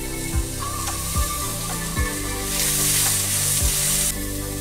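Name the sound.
frying paneer mixture with salt in a pan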